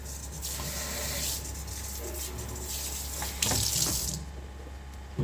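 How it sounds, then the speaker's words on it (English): A kitchen faucet runs warm water into a sink during dishwashing, a steady close hiss of flowing water with brief rubbing and clinking of dishes, no voices. "Use hot warm water."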